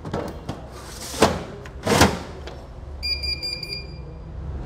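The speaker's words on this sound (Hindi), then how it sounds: "कैसेट इंसर्ट करने के साथ ये 3 बीप्स की आवाज़ आएगी।" A Diebold Nixdorf CS-20 ATM gives two heavy mechanical clunks as a cash cassette is inserted, then a quick run of short, high electronic beeps, close and clear.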